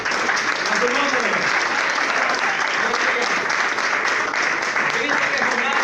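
A church congregation applauds during a Spanish-language sermon, sustained loud and dense clapping filling the room, with a faint voice or cheering mixed underneath.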